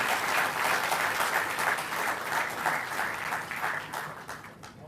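An audience applauds Haryana chief minister Manohar Lal at a state-level ceremony honouring UPSC and IIT-JEE qualifiers, with a dense, sustained burst of clapping from a large crowd that slowly thins toward the end.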